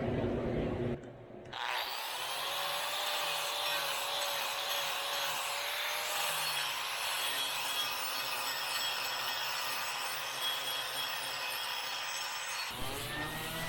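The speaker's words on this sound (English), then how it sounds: "Then I've got the 5-inch random orbital into play, and I've got some 80 grit" A 5-inch random orbital sander with 80 grit hums in a steady, close whir against the inside of a bowl carved from an old wooden boat keel, running continuously for about eleven seconds before cutting off.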